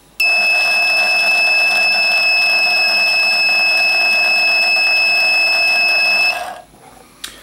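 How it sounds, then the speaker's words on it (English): Electronic alarm from a build-it-yourself circuit kit sounds a loud, steady high-pitched electronic tone for about six seconds, then cuts off abruptly. "So this is the electronic alarm."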